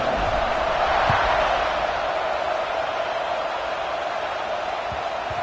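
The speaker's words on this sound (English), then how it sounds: "They're set to kick it off, and this crowd now ready to get behind them." A football stadium crowd waits for kickoff, filling the air with a steady, dense roar of many voices and a few faint thumps.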